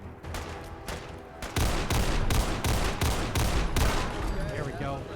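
Rapid gunfire in the video game Fallout 4, a loud burst of closely spaced shots in a steady rhythm that grows heavier midway, with faint voice traces under the shooting.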